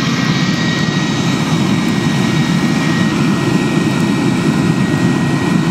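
A homemade burner fed with waste vegetable or motor oil for a drip forge roars with a loud, steady, jet-like rush of flame, constant and close throughout, with no talk.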